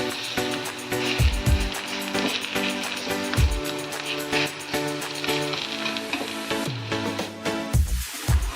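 Ragi sweet adai sizzles steadily on a hot pan after being flipped, a constant close frying hiss with occasional soft thumps and scrapes, set against steady tonal background music.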